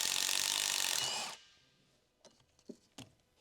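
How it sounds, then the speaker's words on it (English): A large electric impact wrench with a 13mm deep socket runs on the front drive shaft mounting bolts of a 2011-201x Ford Explorer 3.5L, first as a loud steady whir, then it stops and a few faint clanks follow. "With a large size electric impact wrench, remove the front drive shaft mounting bolts."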